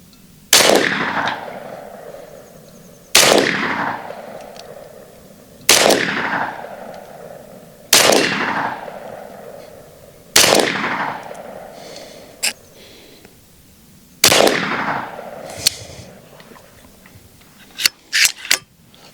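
Six sharp, loud shots from an S45 big bore air pistol emptying two 457-calibre magazines, each crack trailing a decaying echo, spaced a few seconds apart, with a few quicker pops near the end and no talk.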